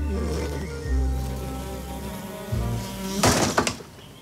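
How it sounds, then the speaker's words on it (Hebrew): A housefly buzzes in a steady, droning hum that shifts in pitch as it moves, ending with a few sharp thuds and rustles. "הזבוב עדיין פה."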